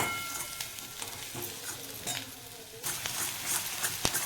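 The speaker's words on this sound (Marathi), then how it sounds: "थोडं चांगलं परतून घ्यायचं त्याच्या तेल सुटेस्तोपर्यंत जरा चांगलं परतून घ्यायचं" Masala frying in oil in a pan gives a continuous crackling sizzle, broken by scraping stir strokes and a sharp clink near the end, with no talking.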